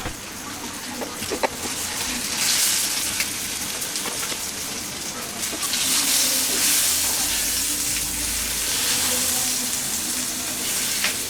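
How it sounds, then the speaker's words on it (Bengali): Slices of ash gourd, rubbed with turmeric, salt and chili, fry in hot oil with a steady, close rain-like sizzle that swells and settles for several seconds, with scattered small crackles and no talking. "সবগুলাকে আমি এরকম হালকা বাদামি করে ভেজে"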